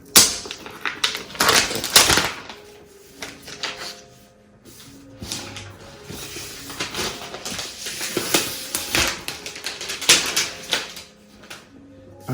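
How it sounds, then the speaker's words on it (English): Plastic wrapping peeled off an Apple HomePod box, giving repeated crinkling, crackling rips and rustles in bursts that come close by, with no speech. "Let's go ahead and peel this off."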